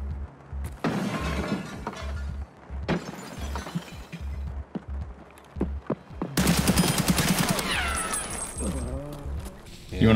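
Gunfire and impacts in Escape from Tarkov, including shots from a VAL rifle, crack out in short bursts amid game noise, with a busier, louder stretch of shooting and clatter toward the end.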